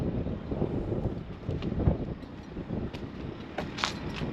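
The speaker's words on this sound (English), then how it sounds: "it's quite a bit windy out here" Gusty wind outdoors beside a 2024 Keystone Bullet Crossfire travel trailer, low rumbling buffeting against the microphone in uneven surges, faint and continuous with no talking.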